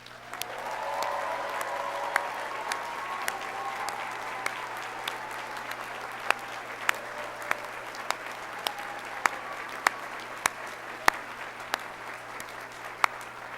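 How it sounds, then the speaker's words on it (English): A large hall of people applauds law school graduates at a hooding ceremony, sustained clapping heard from some distance, with a few sharp individual claps standing out over the steady roar. "One final round of applause for our graduates."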